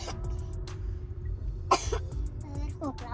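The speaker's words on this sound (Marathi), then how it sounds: "खोकला पण आले" A person coughs several times in short, sharp bursts with some throat clearing, close to the microphone over a low rumble of background noise, with a little speech mixed in.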